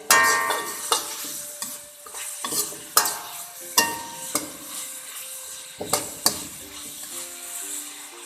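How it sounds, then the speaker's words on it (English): Beans sautéing in a pan, with repeated sharp scrapes and clanks of a spatula stirring over a steady sizzle, close and fairly loud. "Now you need to add beans. Let it saute."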